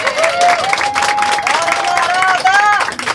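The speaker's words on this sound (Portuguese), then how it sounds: "Precisamos, podem aplaudir." Audience applause at an event against femicide, honoring the men present, with clapping and crowd noise under a sustained tonal voice-like sound and chatter throughout.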